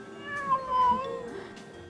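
A cat gives a short, fairly close meow with a rising and falling pitch, faint background hum around it.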